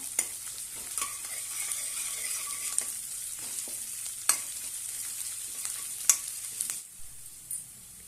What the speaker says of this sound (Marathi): थोडीशी लसणाची पेस्ट, हे सर्व आपण परतून घेऊया